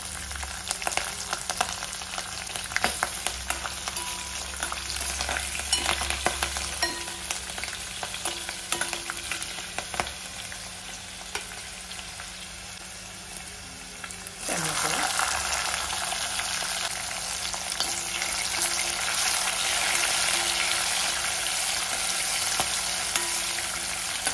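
Curry leaves, peanuts and green chillies dropped into hot oil for sevai upma give a steady close sizzle that swells sharply louder midway as they hit the pan, then keeps crackling.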